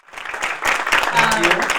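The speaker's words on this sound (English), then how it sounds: "Please join me in giving Tami a round of applause here." A meetup audience applauds Tami after a product career talk, a broad burst of many hands clapping that builds and holds steady, with talk mixed in underneath.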